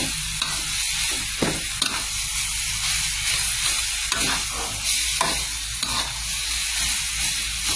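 Pounded jackfruit mixed with curry paste being stir-fried in a hot pan, a continuous loud sizzle and hiss with repeated scraping strokes of a utensil, close up.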